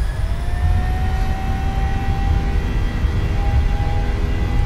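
A PMDG 737-800 in Microsoft Flight Simulator with its jet engines at takeoff power, giving a loud steady roar with a sustained whine layered on top and no talking.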